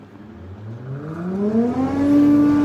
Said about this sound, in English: So let's test it out. So first we have to turn on the vacuum.